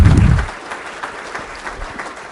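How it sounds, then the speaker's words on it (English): A short burst of audience applause, loud at first and quickly fading to scattered claps. "we all should give them a big round of applause for a job well done"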